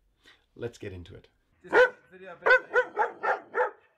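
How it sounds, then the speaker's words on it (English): A large, fearful dog barks about half a dozen times in a quick, even string, loud and close. Someone speaks briefly just before the barking starts. "he's barking there mainly out of fear"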